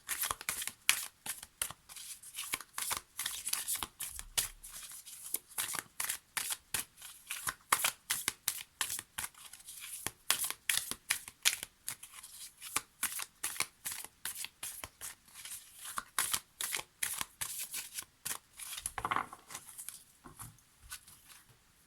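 Oracle de l'harmonie cards are shuffled steadily for a tarot-style reading, making quick, close papery riffles and flicks in an even rhythm with short pauses between them.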